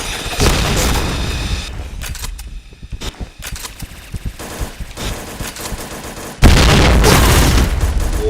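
Loud, close combat in a first-person shooter game: bursts of gunfire, sharp booms and a heavy explosion near the end, with a grenade going off among the shots.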